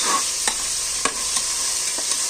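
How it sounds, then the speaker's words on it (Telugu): Vegetable rice with chopped coriander is stirred in a pan. A spoon scrapes in a few distinct strokes over a soft, steady sizzle. No voices. "కొత్తిమీర అయితే వేసేసుకున్న తర్వాత కొంచెం మిక్స్ చేసుకొని"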